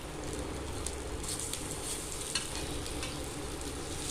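Banana flower cutlets and vadai frying on a tawa give off a steady, close hiss and sizzle of hot oil, continuous across the whole stretch with slight crackles and no voices.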